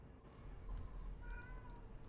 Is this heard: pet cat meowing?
yes